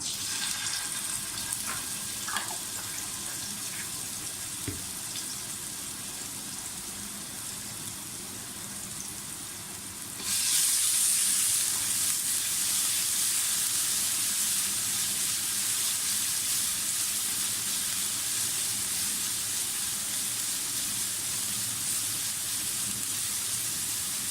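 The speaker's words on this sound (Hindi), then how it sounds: "थोड़ा सा फ्राई करें" Garlic, ginger and green chili paste fries in a pan with a steady hiss that jumps noticeably louder partway through and stays dense and continuous, close up with no voices.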